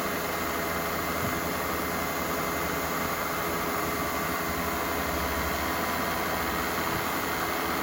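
The spindle of a 2014 Southwestern Industries Trak DPMSX3P CNC bed mill runs at speed, a steady, even mechanical whir with a constant high whine and broadband hiss, unbroken throughout.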